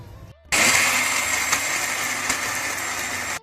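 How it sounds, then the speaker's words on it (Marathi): A kitchen mixer grinds garlic, onion and Guntur chillies into a paste, starting abruptly after a brief pause and running as a loud, steady whirring roar before cutting off. "लसूण आणि पियाव हें गंध वाटून हाडया."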